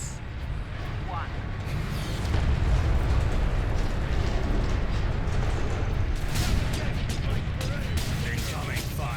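Incoming artillery shells explode in the Space Marine video game. Heavy booms and rumbling blasts roll continuously for several seconds, loud and dense, with a voice talking over the barrage.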